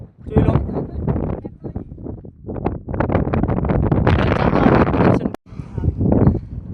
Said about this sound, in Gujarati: 100 ની સ્પીડમાં વાયરો આવે છે, ફૂલ હવા આવે છે, એકદમ ઠંડી હવા